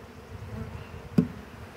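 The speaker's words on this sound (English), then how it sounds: "all these other bees flying around here like a bee tornado" Honey bees from a caught swarm buzz and fly around during a hive install, a steady faint hum with one brief louder pass as a bee nears.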